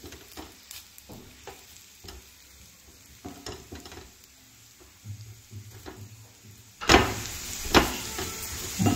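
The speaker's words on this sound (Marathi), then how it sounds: "खोबरं घेतलं होतं सुक्कं, ते आता नुसतं भाजून घ्यायचं आपल्याला ह्याच्यातच कांद्यामध्ये." Dry coconut roasting with onions in a pan, with a soft background sizzle under repeated scraping and stirring clatter that turns louder and brighter in the last couple of seconds.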